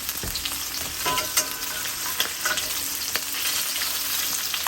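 Shrimp frying in a pan for a broccoli and garlic sauce dish give a continuous bright sizzle with scattered small pops and light clicks, close and steady, with no voices.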